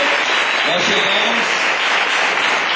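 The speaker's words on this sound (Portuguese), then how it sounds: "Vamos dar uma salva de palmas do Senhor." Applause in a church congregation: steady, dense clapping from many people fills the whole stretch at high volume, with voices mixed in.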